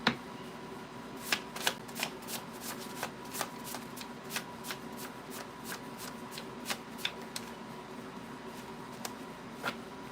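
A deck of tarot and oracle cards shuffled by hand, producing a long series of crisp, evenly spaced card snaps and riffles, close and fairly quiet over a low background hum, with no speech.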